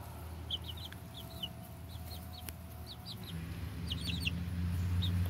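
Several chickens and baby chicks cluck and chirp in short, scattered bursts over a steady low hum, with the clucking growing busier and a bit louder toward the end.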